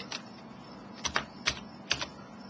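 Several quick key presses on a computer keyboard in separate bursts while entering a login code and password, close and clear against a quiet background with no talking.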